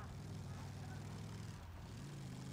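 Steady low propeller drone of a bomber aircraft engine in Battlefield 1, a continuous loud hum throughout with slight dip midway, no talk over it.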